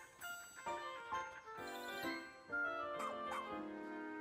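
Oatchi, the puppy companion in the video game Pikmin 4, whimpers and yips in a series of high, whiny barks over bright game music and chiming effects, fairly loud and steady.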